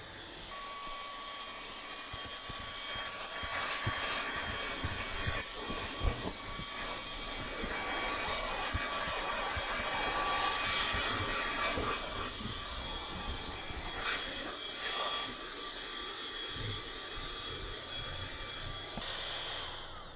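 A portable vacuum cleaner runs steadily on a car's carpet, picking up dust and leaves, giving a continuous loud hissing whine that holds for the whole stretch with slight shifts as it moves.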